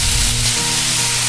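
Bacon sizzling on a griddle top at around medium heat, a steady dense crackling hiss that runs close and continuous with a low rumble underneath, no voices.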